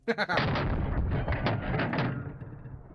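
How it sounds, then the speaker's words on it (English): A Lynx CQB .50 caliber semi-automatic rifle with a large muzzle brake fires one loud, violent shot up close, and its booming roar and echo decay over about three seconds. "This is probably one of the most violent semi-auto rifles I've ever shot in my life."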